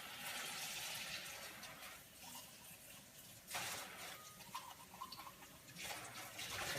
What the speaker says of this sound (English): I'm just adding lukewarm water.